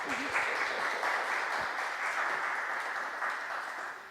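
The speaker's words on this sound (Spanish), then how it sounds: "Un aplauso, por favor." A university academic forum audience gives a round of applause, an even, moderately distant wash of clapping lasting the whole stretch with no talking over it.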